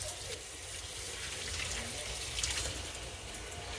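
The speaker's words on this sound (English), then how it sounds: "I'll just run the beater in my dishwater." A hand mixer's beaters run in sink dishwater while the tap keeps flowing, a continuous hissing, churning wash of water throughout.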